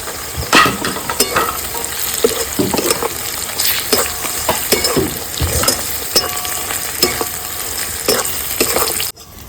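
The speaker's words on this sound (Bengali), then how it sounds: "পেঁয়াজটা ভাজা ভাজা হয়ে গেছে, আদা রসুনটা দিয়ে দিচ্ছি।" Onions and tomato fry in a pan with a continuous crackling sizzle, broken by scraping stirs and clinks, before the sound drops away at the very end.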